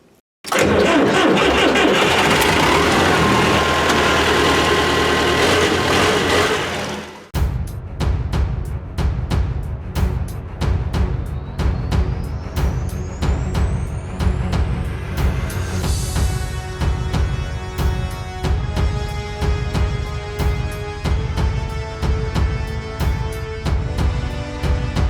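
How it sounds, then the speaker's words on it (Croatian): Russian LTZ T-40 tractor diesel engine: a loud cranking roar for about seven seconds, then the engine catches and settles into a steady, rhythmic idling chug that continues to the end with no talking. "Traktor"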